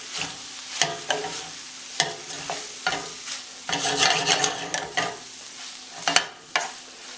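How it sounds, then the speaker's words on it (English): Chopped tomatoes stirred into fry bodi in a pot, a steady sizzle punctuated by irregular spoon scrapes and knocks against the pot, close up with no speech. "I'm going to give that a quick stir."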